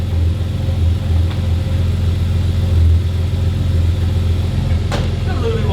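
A cold Ford Fairlane engine fitted with a stage 4 turbo cam and double row valve springs idles on fast idle, giving a loud, steady, close low rumble with slight lumpy pulsing.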